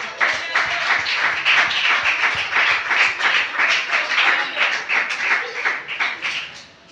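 A church congregation clapping steadily for several seconds, a dense, lively burst of applause with no talking over it.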